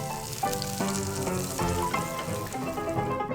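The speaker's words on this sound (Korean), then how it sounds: "팬에 기름 넉넉하게 둘러 튀기듯이 구워주세요." Starch-coated soft tofu rolls crackle and sizzle in plenty of hot oil in a pan, a dense continuous frying hiss with small pops, close and fairly loud.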